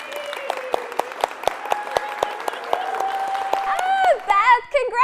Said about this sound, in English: we got some applause in the studio